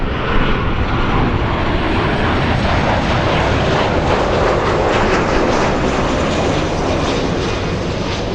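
A LATAM airliner bound for Lima roars on its takeoff roll at Los Angeles International Airport, a loud, steady jet engine rumble filling the whole stretch with no voices.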